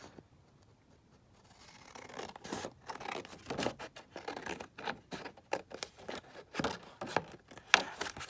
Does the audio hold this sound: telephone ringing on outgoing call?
no